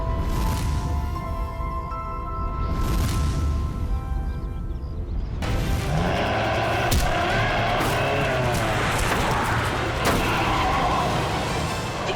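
A car brakes suddenly in front of a child on a street, with a harsh tyre skid and a jolt, then a sharp impact and a burst of swelling dramatic music.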